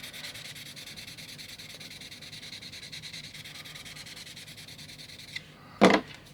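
A curved surface smoothed by hand with a sanding sponge, soft steady rubbing strokes that stay faint and close, ending with a short louder scuff or knock near the end.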